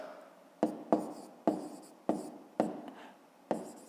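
A pen writes in a notebook during a math exercise, close to the microphone. There are about seven short, sharp scratching strokes spaced unevenly over a quiet background. No one speaks.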